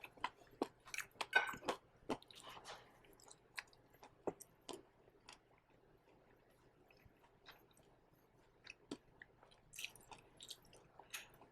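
Close, wet chewing of crunchy pork rib cartilage from sweet and sour pork ribs, sharp crunches, bursts of bites clustered at the start and end with quieter chewing between.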